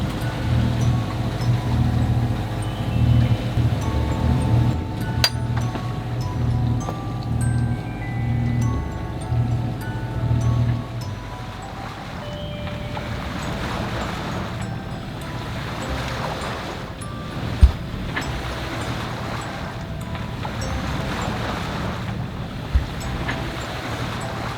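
A sailboat motors on the open Atlantic between Bermuda and the Azores, its low engine hum droning under rushing waves and wind noise. The engine drone fades partway through, leaving surf, water wash and gusting wind with an occasional knock.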